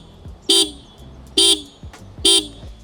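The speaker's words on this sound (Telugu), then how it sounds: "చాలా అంటే చాలా లౌడ్ హార్న్ ప్రొవైడ్ చేస్తున్నారు అనమాట" Horn of a Yamaha R15 V4 2026 motorcycle sounds three times in short, loud, evenly spaced honks, close to the mic with a quiet pause between each blast.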